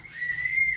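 A single steady whistled tone, fairly high and held for under a second, with a faint low background hum.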